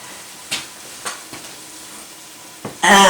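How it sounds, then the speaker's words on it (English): Eggs cooking in a pan in a home kitchen, heard as a few soft scraping stirs at spaced intervals over a quiet sizzle, then a louder burst of frying at the end. "I think the eggs have cooked long enough."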